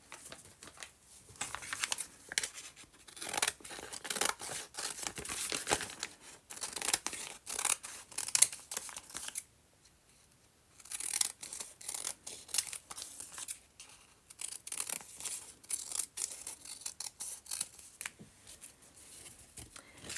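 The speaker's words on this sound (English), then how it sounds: "Crafter's favorite sound of paper." Scissors cut through paper in quick crisp snips and rustling crunches, close and quiet, in busy bursts with one brief pause midway, no voices.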